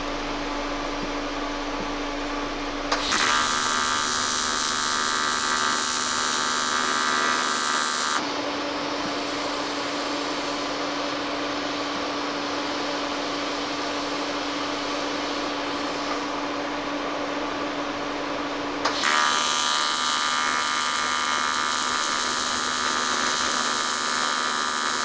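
A TIG welder hums steadily in a shop during repairs on a 1980 Peterbilt 359. Two longer stretches of brighter, louder buzzing arc break in over the constant electrical drone.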